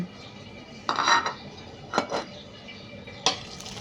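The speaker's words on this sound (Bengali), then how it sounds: "এখন আমি সবগুলো উপকরণ দিয়ে মাংসগুলো মেখে নেব।" Mutton being mixed by hand in a metal bowl with onion, ginger paste and garlic paste: a few sharp clinks and scrapes against the vessel, about three distinct knocks spaced over a few seconds, close and moderately loud.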